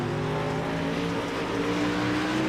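Race car on a motorsport track, engine roaring loud and steady throughout, a close continuous drone with strong harmonic whine and no voices.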